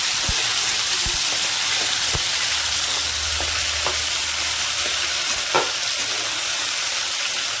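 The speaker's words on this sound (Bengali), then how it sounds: "আলুগুলো ভাজা হতে থাকে," Potatoes fry in hot oil in a pan for a vegetable curry, giving a steady, bright sizzle with occasional stirring clatters and scrapes, close and continuous, with no one speaking.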